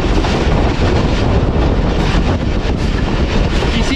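The Badar Express, a private train, arriving at Chak Jhumra Junction railway station: a loud, steady rumble and rattle of rolling cars that fills the whole span without a break, with no voices.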